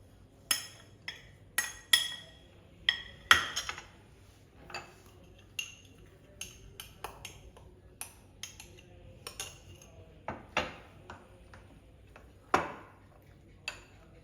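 A spoon stirs oat and dark chocolate cake batter in one direction inside a bowl, making sparse, quiet, irregular clinks against the rim, heard close with little else around.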